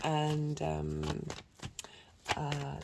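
Tarot cards shuffled by hand in a quick riffle-and-slide rhythm, close and crisp, with a few separate bursts of shuffling as a voice speaks between them.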